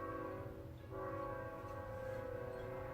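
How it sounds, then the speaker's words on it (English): A train passes outside, a low rumble with steady tonal horn-like lines holding loud and continuous throughout, fairly close and with no talk over it. "Gotta wait for the train."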